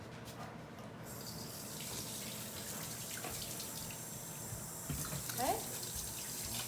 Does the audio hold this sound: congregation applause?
no